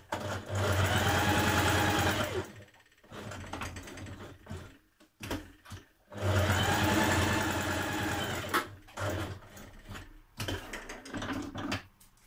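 A sewing machine stitches around the triangular part of a cardigan neckband. It whirs in two long, steady runs, with short stops and quieter mechanical clicks in between, close and alone.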